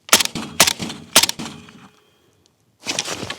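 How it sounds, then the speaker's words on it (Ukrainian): Three sharp, loud AK-74 rifle shots into a foam block in quick succession, each with a short ringing tail, followed by a pause and a burst of noisy rustling. "Зараз здійснимо три постріли по піноблоку."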